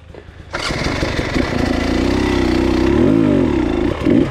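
An enduro motorcycle on a rocky hill, its engine catching after a quiet moment and revving loud and steady close by, pitch swelling and dipping under throttle.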